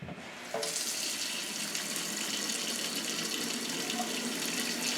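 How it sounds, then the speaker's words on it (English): A faucet opens and water pours steadily into a sink for hand washing, a constant close hiss and splash that holds loud and even after the tap turns on, with no talking. "I gotta wash my hands"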